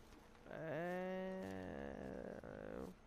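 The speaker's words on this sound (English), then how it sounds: "There are goats." A goat in the Far Cry Primal video game lets out one long, faint, wavering bleat that stays quiet and fairly distant.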